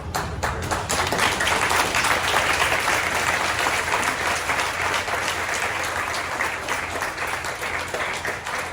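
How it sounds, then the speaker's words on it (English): A crowd at a Q&A session with actor Brandon Routh at a Superman celebration claps loudly and continuously, a dense, sustained wash of applause with little speech. "They're clapping for yourselves, not for me."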